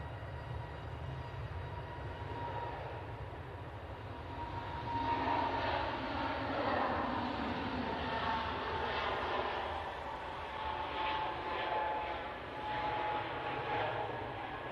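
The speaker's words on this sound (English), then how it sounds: "Right, 321 Neo on the roll." An Airbus A321neo on its takeoff roll at Manchester Airport, a broad distant engine roar that swells from about the midpoint and holds steady, heard from afar without voices.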